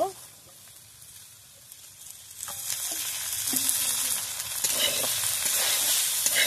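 Oil sizzles and crackles steadily in a frying pan of frying kundru (ivy gourd), a broad hiss that grows louder partway through, with a few soft clinks.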